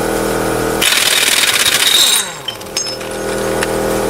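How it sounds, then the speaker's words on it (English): An air impact gun rattles loudly in one sustained hammering burst while spindle parts come off a K5 Blazer square-body truck, followed by a few fainter clanks as it stops. "I'm going to take it out with an impact gun"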